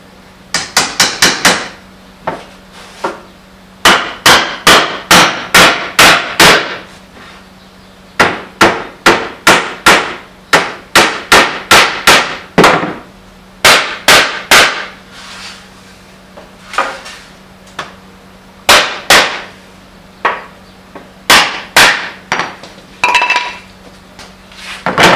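Sharp, loud hammer blows drive glued wooden pegs into holes in a workbench, striking in quick bursts of several hits separated by short pauses, close and alone.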